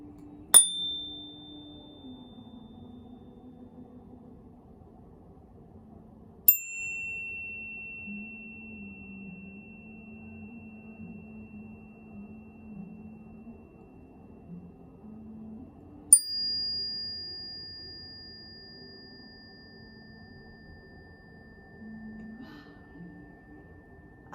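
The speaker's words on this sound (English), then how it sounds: "I'm going to do 3 chimes, one for each one" A chime is struck three times, spaced several seconds apart, each strike a bright metallic ping that rings out and slowly fades. A faint low hum or murmur runs quietly underneath.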